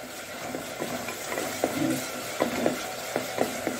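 Garlic and ginger frying in oil in a pan, a soft steady sizzle close by, with a few light spoon taps and stirs against the pan.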